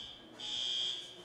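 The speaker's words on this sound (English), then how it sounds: "Somebody tripped the fire alarm back there in the back, I think." A fire alarm going off somewhere toward the back of a room, heard as one steady high-pitched electronic tone that swells for about half a second, faint and distant, with no talking over it.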